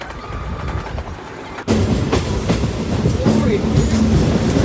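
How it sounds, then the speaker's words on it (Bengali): A train pulls out of Lakshmikantapur station, steady rumbling and rattling of the carriages that jumps louder partway through and stays close and continuous. "দশ মিনিট পরেই ট্রেনটা ছেড়ে দিয়েছে লক্ষ্মীকান্তপুর থেকে"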